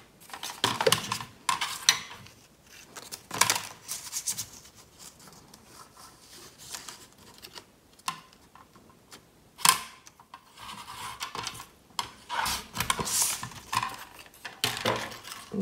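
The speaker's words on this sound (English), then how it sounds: "And then you cut it." Material for a box's sliding lid and dividers is cut with scattered sharp snips, clicks and taps at an irregular rhythm, close by and fairly quiet, with pauses between the bursts.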